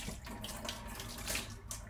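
A sponge used for watercolour cleanup is rinsed under a running tap, giving a steady, soft splashing of water into a sink with no voices.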